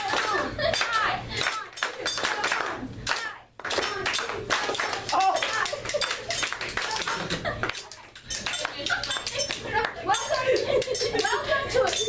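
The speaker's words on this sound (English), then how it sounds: "We just join in clapping and singing." A group of people claps along in rhythm while singing together in a classroom-style activity, the sharp, steady hand claps punctuating loud communal singing, with a couple of brief pauses in the beat.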